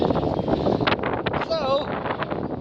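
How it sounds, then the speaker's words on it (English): Strong wind buffets a microphone at a beach, a loud continuous rumbling roar with gusty bursts, and a person is faintly heard talking underneath. "This wind is getting me down."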